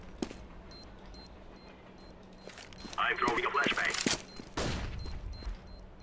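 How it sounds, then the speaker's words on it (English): Flashbang grenade thrown during a Counter-Strike: Global Offensive match, a sharp burst amid crackling in-game gunfire and clicking effects, fairly loud against a steady game background with no voice. "I'm throwing a flashbang."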